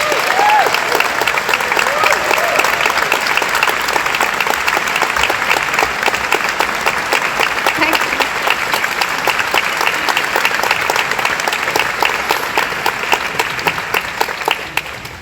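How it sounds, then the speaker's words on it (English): A large audience applauds steadily on stage at an evening event in Malmö, Sweden, welcoming author Arundhati Roy; dense, loud clapping sustained throughout with no speech. "a big round of applause to welcome Arundhati Roy to Malmö and up on stage"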